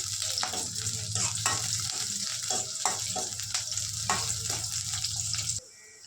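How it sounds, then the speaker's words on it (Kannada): Onions frying in oil for a chicken curry give a steady, close sizzle with repeated scraping of a stirring utensil against the pan, continuous until it cuts off near the end. "ಫಸ್ಟು ಆಯಿಲ್ ಹಾಕಿ ಈ ಥರ ಸ್ವಲ್ಪ ಕಲರ್ ಚೇಂಜ್ ಆಗೋ ಥರ ಫ್ರೈ ಮಾಡಬೇಕು."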